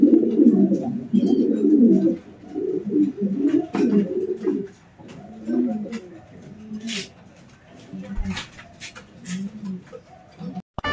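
A racing pigeon coos close by in soft, repeated throaty bursts, steady for a few seconds then thinning out, with scattered faint clicks and chirps around it.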